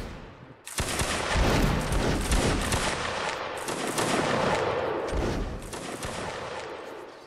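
Massed musket volleys in a Napoleonic Wars line battle video game, a sudden loud crackling fusillade of many overlapping shots sustained for several seconds, with rolling bursts rising and falling.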